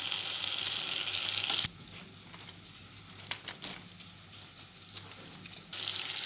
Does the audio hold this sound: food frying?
yes